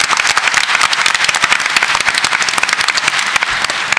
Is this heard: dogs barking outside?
no